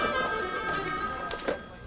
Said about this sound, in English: please keep the phones ringing as you watch.